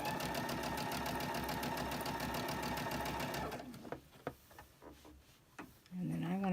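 Sewing machine stitching quilt fabric for a puzzle mystery quilt, running in a steady rapid rhythm for several seconds, then stopping and leaving scattered clicks and light handling noise.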